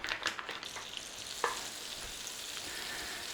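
Butter melts in a pan for an 18th-century curry sauce, giving a soft, steady sizzle with a few light clinks near the start, quiet and close.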